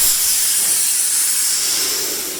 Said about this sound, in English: It's just compressed air, there's no steam involved.